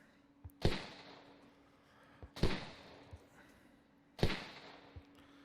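Mortars fire in a video game battle, three separate heavy thumping launches spaced a couple of seconds apart, each with a short rumbling tail and small quieter thuds between them, fairly distant with no talk.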